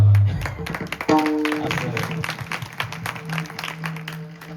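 An audience at a kirtan claps in a loose, rapid patter that runs throughout, with a sustained tonal note entering partway and voices mixed in beneath the applause.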